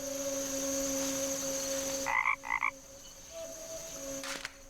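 Frog croaking by a pond in the adventure game The Night of the Rabbit, two quick throaty croaks in succession over a constant tonal ambient drone, with no talking.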